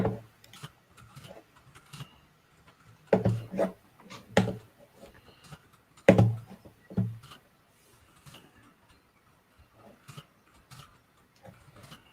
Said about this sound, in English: The keyboard's like right by my mic